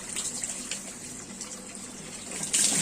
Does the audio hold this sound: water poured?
yes